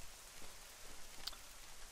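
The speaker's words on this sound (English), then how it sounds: "It's all rainy" Steady rain falls in the Eleusis video game at night, a soft, even hiss of quiet rainfall with a faint scattering of drops throughout, heard alone with no voices.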